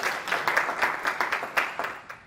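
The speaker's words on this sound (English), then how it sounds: "Let's just give them a round of applause." Audience applause at a diversity-in-STEM civic event, a brief burst of scattered clapping from a modest room-sized crowd, fairly close and steady with uneven individual claps.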